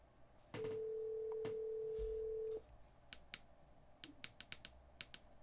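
A phone call comes through a Sony ULT Field 1 portable Bluetooth speakerphone: a steady electronic ring tone holds for about two seconds, followed by quiet clicks and taps, with no talk.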